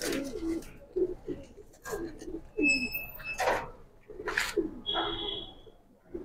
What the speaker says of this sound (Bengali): এটা বেজি লাইনের কবুতর।